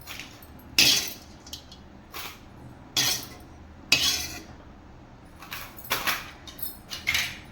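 Roasted kudampuli being moved from a pan to a plate with a metal utensil, producing a series of sharp metallic clinks and scrapes at irregular intervals, close and fairly loud.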